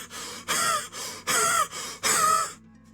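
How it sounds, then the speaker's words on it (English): Heavy, panicked breathing in sharp gasping bursts, three loud ragged inhales with brief pauses between, close and intimate, ending abruptly in silence. "My heavy breathing sounds unnaturally loud in my ears."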